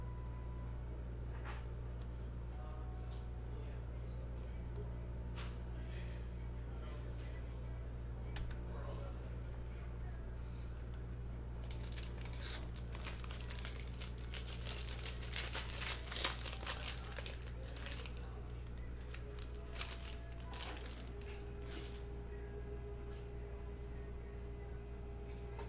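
A foil pack of 2020 Bowman Draft baseball cards being torn open, a burst of crinkling and ripping foil close up over a low steady background hum.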